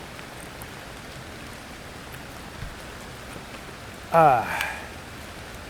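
Steady rain patters on a hammock camp in the woods as an even, close wash of drops. A person gives one brief exclamation near the end.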